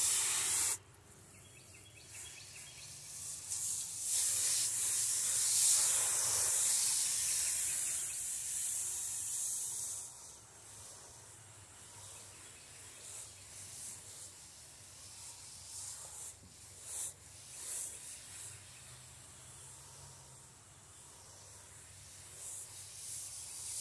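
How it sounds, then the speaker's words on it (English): A spray bottle mists freshly sown toothache plant seeds, a close breathy hiss of several quick pumps in the first ten seconds, then faint intermittent spritzes and rustles in a quiet room. "Then I'll mist them again."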